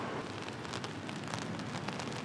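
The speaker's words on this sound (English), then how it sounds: "it's raining here" Rain falls steadily in Vancouver, Canada, a soft, even hiss of drops filling the air without pause or any voices.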